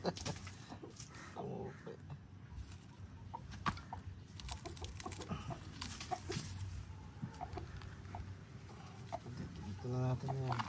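Chickens cluck and squawk repeatedly at close range on a chicken farm in Nueva, with a rooster's call near the end, mixed with people talking and handling noises.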